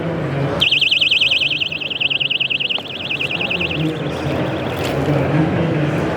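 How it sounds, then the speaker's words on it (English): A loud, piercing 105-decibel electronic alarm wails with a rapid warbling tone for several seconds over a low background rumble, at a home show. "And this is an alarm at 105 decibels."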